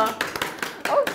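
Several sharp claps keep a quick beat during a cheerful musical curtain-call choreography, mixed with a singing and chattering voice close by.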